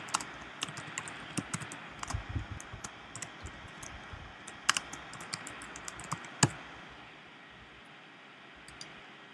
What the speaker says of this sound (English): I'll type it in for you here.